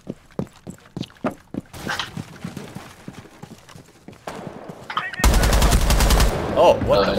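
Gunfire in the tactical shooter Rainbow Six Siege: sharp footstep-like clicks lead into a few scattered shots, then a loud, sustained burst of rapid automatic fire near the end.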